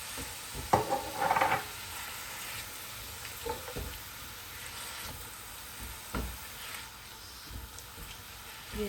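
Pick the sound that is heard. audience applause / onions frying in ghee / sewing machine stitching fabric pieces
onions frying in ghee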